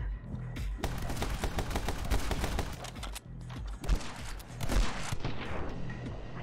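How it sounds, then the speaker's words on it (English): Shotgun fire in the game My Friend Pedro, with rapid, loud blasts in quick bursts, brief pauses between them, then heavier booming shots toward the end. "Oh, I got a shotgun now."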